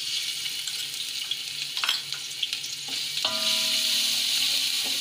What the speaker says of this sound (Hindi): एक चम्मच भरकर लहसुन अदरक का पेस्ट डालेंगे और इसको थोड़ा सा फ्राई करेंगे